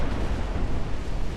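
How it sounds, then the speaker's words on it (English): A torpedo striking a warship in the naval battle game Ultimate Admiral: Dreadnoughts, set in 1890 France: a brief, loud, sustained low rumbling blast with no talking. "She's about to eat some revenge torpedoes right there."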